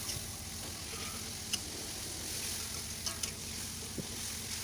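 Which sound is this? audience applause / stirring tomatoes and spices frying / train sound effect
stirring tomatoes and spices frying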